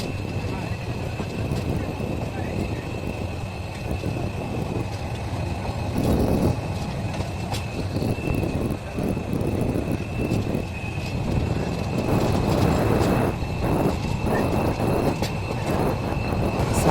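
The Burimari Express intercity train pulls out of Sayedabad railway station, a continuous low rumble of wheels on track with rhythmic clatter and a steady high whine, while a voice talks over it.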